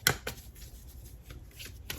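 A deck of tarot cards being shuffled, with one sharp riffle at the start followed by soft, faint papery rustling close by, quiet and without talk.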